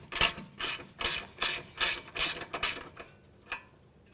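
A 14mm socket ratchet loosening the outer tie rod end nut on a 2015-2019 Hyundai Sonata, clicking in about eight rhythmic bursts of rapid pawl ratcheting, close and clear, with no talk.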